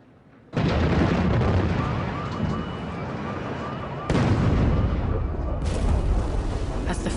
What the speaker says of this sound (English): As the first bombs fell